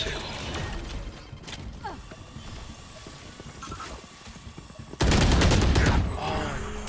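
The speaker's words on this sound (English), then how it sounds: "I can shoot you in the head with this gun." Gunfire in the tactical shooter Valorant, scattered sharp shots and mechanical clicks at moderate level, then a loud close burst of rapid shots near the end.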